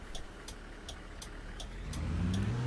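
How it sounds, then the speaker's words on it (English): A coach drives along a motorway in Fernbus Simulator, a low steady engine and road drone building louder toward the end, with faint regular ticking clicks on top and no talking. "It certainly gets very noisy on the motorway."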